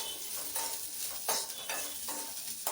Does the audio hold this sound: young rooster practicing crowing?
no